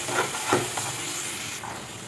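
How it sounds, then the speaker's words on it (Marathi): Mango modak filling being stirred in a pan, a few soft scraping strokes over a faint steady sizzle, close and quiet with no voices. "आता हे जवळजवळ मी 2-3 मिनटं असंच परतत राहते, म्हणजे हे घट्ट होईल."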